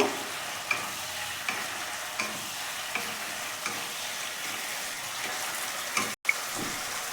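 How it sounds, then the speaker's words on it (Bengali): Paneer cubes stirred and sautéed in a pan for a curd paneer dish, giving a steady soft sizzle with regular spoon scrapes about every second, close and alone without talk. "পনিরগুলো দিয়ে দিলাম দিয়ে পনিরগুলো খুব ভালো করে এর সাথে মিশিয়ে নেব"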